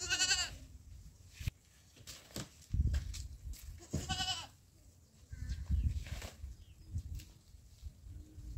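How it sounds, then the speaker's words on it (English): Goats on a village farm bleat while being fed, several loud, wavering cries from close by interrupted by shuffling and handling noises, repeating at irregular intervals for the whole stretch. "I gave goats food."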